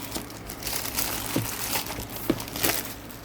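A plastic bag of packaging is opened with dry crinkling and rustling, a few sharper crackles standing out, close and fairly quiet.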